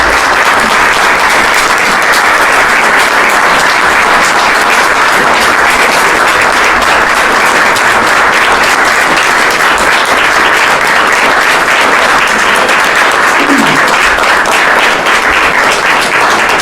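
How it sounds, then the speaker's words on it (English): Sustained, loud applause from an audience at a memorial event for women of foreign medical missions in Serbia, a dense, even wall of clapping that continues throughout. "warmth of that applause shows how much we value your presence here"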